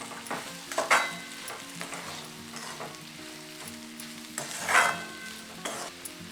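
French beans stir-fry with crushed peanut powder added sizzles in a pan, with soft frying crackle under two louder bursts of stirring and scraping against the metal.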